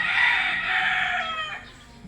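A five-year-old brood rooster kept in a backyard flock crows once, loud and close, with a long drawn-out call that tails off after about a second and a half.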